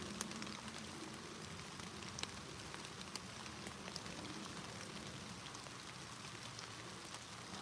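Steady rain falls through woodland, a soft continuous patter with scattered drip taps, faint and distant with no voices.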